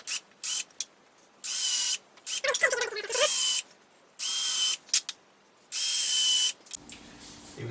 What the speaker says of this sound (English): I'm going to use a countersunk piece on my drill here.